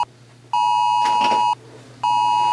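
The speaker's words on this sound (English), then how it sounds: "get an Amber Alert on my phone" A phone sounding an Amber Alert emergency tone: two loud, steady electronic beeps about a second long each, separated by a short pause.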